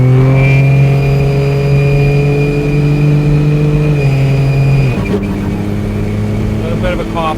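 A 1,025 HP single-turbo Cummins diesel truck accelerating up to highway speed after a corner, a loud close engine drone with rising harmonic tones, then a shift to a new pitch near the end, with talking over it.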